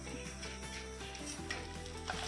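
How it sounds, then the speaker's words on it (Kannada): Cumin, poppy seeds, fenugreek, cloves and a cinnamon piece fry in oil for a mushroom and sprouts curry, giving a steady close sizzle with faint stirring, low and continuous. "ಇಷ್ಟನ್ನು ಚೆನ್ನಾಗಿ ಎಣ್ಣೆಯಲ್ಲಿ ನೋಡಿ ಈ ರೀತಿ ಫ್ರೈ ಮಾಡ್ಕೊಬೇಕು"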